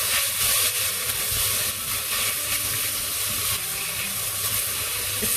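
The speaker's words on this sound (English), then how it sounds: "So in goes my tofu. So give this a quick stir." Tofu sizzles in a pan with mushrooms, garlic and ginger over medium heat while being stirred for a vegan peanut satay ramen, a steady, close, hissing fry with no voices.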